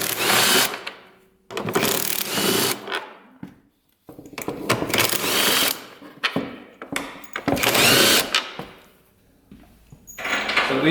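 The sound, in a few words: power tool removing rusted bolts on an old ATV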